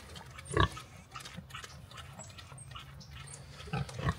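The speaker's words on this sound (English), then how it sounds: "See the pigs." Pigs on a farm after cold weather grunt and snort nearby, with a couple of louder squeals and grunts standing out over a low rustling background.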